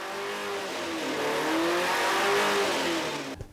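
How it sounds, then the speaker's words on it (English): A new motorcycle engine run up on a test bench gives a loud sustained revving drone whose pitch climbs and wavers for a few seconds, then cuts off abruptly at the end. "it's great to see this engine for the first time being run up on the bench"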